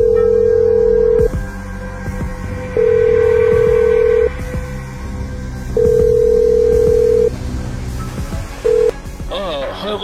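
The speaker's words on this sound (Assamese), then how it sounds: "মই তাক এতিয়া ফোন কৰোঁ" A telephone call being placed: a loud steady ring-back tone repeats in four long pulses with pauses between, under someone talking quietly, ending in a short final tone and rustling.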